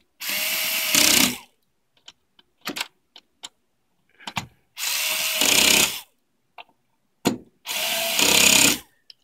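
A power drill drives screws while a dual receiver bay is installed in studio gear, three loud whirring bursts separated by pauses filled with small clicks and handling knocks.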